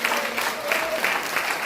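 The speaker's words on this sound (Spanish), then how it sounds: "un aplauso al Señor, fuerte, hermano" A church congregation at a Spanish-language service breaks into brief, lively applause, a dense patter of many hands clapping together at moderate loudness.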